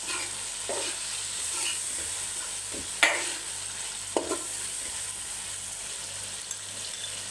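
Chicken pieces frying in masala in a pot for a chicken kaddu dish: a soft, steady sizzle with a few sharp scrapes and clinks as a spoon stirs, fairly quiet and close.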